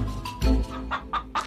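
A chicken clucking up close, a short series of four or five loud, choppy clucks with no talk.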